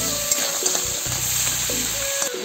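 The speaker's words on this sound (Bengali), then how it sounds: "এবার কাঁকড়া কটা ভাজা হয়ে গেছে" Crabs fry in a hot pan with a loud, close, continuous sizzle, punctuated by a few spatula scrapes and clinks; nobody speaks.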